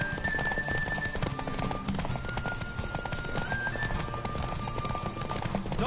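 In The Witcher 3, a horse gallops hard in a race, rapid rhythmic hoofbeats pounding continuously and close, with a neigh and game music layered over the run.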